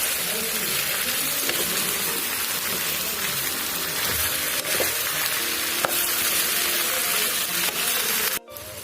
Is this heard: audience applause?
no